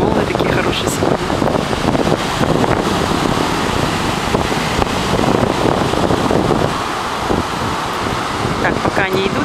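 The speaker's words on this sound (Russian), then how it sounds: "Волны такие хорошие сегодня." Ocean surf on a Titusville, Florida beach where people are surfing, heard as a continuous loud roar of waves under heavy wind buffeting the microphone.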